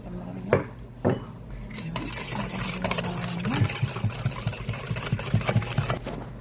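Eggs being beaten in a bowl with a large spoon: rapid, rhythmic clinking and tapping close by, building into a steady quick beat over a low background hum.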